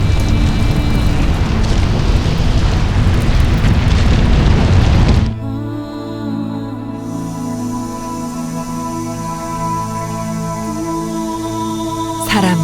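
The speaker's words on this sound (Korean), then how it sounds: "순식간에 수백만 톤의 화산 폭발 잔해물이 도시 위로 쏟아졌다" Volcanic eruption burying Pompeii: a loud, dense roaring rumble with crackling debris fills the first five seconds, then cuts abruptly to a quieter, sustained droning tone.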